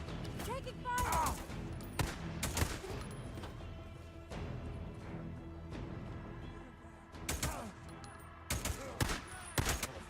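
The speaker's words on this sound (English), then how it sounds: "Taking fire!" Gunfire from the video game Days Gone Remastered, with loud sharp bursts and single shots striking in irregular clusters over a busy background of game sound, voices speaking now and then in between.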